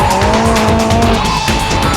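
Car tires squeal loudly during drifting with a Datsun 510 or Nissan 300ZX, a sustained screech over a roaring engine, close and intense for about two seconds with no talking.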